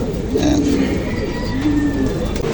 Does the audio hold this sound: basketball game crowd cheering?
no